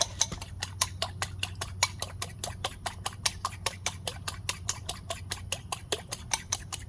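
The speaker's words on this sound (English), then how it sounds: "I got 2 eggs. Just whisk it with a fork." Two eggs whisked with a fork in a bowl, a brisk, even rhythm of light clicking taps, roughly four per second, close by with no talk.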